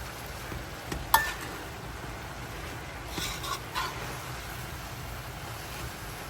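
Beef chowmein noodles stirred and tossed together in a frying pan: a steady, soft hiss of frying under quiet scraping and clinking of a utensil, with a few sharper taps against the pan.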